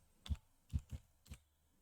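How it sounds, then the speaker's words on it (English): A password is typed on a Mac keyboard as four distinct soft key taps, spaced unevenly and heard close up in a quiet room. "when I'm typing the password, nothing will come on the screen"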